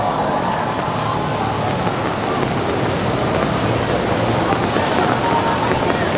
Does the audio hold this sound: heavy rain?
yes